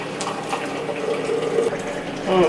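Freshly made celery, ginger and carrot juice pours and trickles steadily through a strainer, a continuous close splashing that grows a little louder and fuller right at the end, with no talking.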